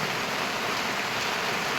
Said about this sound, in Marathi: आता पाऊस चालू झिमझिम